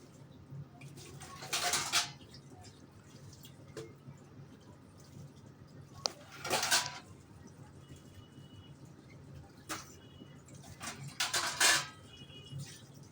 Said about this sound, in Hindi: देखो मैं इस तरह से रात में बर्तन धो देती हूँ